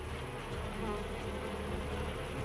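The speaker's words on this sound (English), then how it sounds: "the bees crowd belly to belly against the invading beast" Dense, steady buzzing of many honeybees crowding around an invading hornet, vibrating their abdomens, a constant insect hum with no voices.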